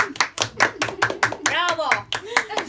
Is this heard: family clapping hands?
yes